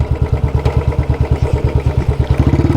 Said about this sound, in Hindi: अभी फिलहाल हम लोग स्लो करते हैं थोड़ा, इसका आवाज़ आपको प्रॉपर दबा दबा साउंड आएगा।